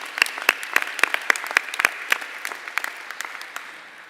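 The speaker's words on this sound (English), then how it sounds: "big round of applause" An audience at a nursing pinning ceremony claps in a round of applause, a spirited burst of handclaps that gradually thins and fades over several seconds.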